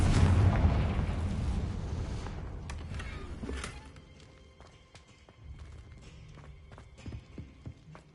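A Confringo explosion spell in Hogwarts Legacy, a loud booming blast that rumbles and fades over a few seconds, then quieter scattered clicks and small impacts.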